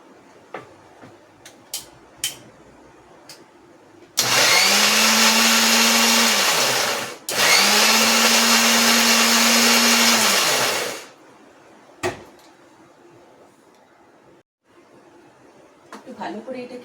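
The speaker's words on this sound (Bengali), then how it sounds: "এবারে আমি এটাকে মিক্সিতে ভালো করে ব্লেন্ড করে নেব" An electric blender whirs loudly in two long bursts with a brief pause between, blending a mango drink with fresh mint leaves; quiet ticks and clinks come before and after.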